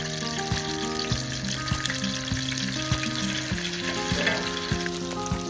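Okoy, Filipino fritters of shrimp, fresh vegetables and rice flour, frying in oil with a constant, even sizzle heard close up, while a faint tonal hum runs underneath and no one speaks.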